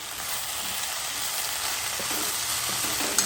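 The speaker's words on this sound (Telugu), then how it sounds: "ఇవన్నీ బాగా వేగాలండి" Ginger-garlic paste and vegetables for coconut rice fry steadily in a hot pan, a continuous close sizzle with a faint clink near the end and no talking.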